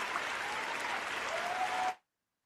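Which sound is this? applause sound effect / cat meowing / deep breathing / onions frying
applause sound effect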